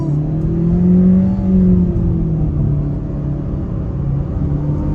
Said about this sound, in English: try an acceleration off the line on the gas.